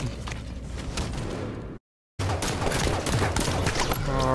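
Video-game assault rifle fire crackles in rapid bursts, loud and close, broken by a short silent gap before the volleys resume.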